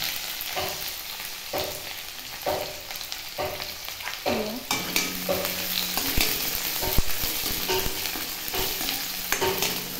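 Onions are dropped into hot oil in a kadai at home, giving a bright, crackling sizzle with repeated metal stirring clatters and scrapes, close and steady throughout.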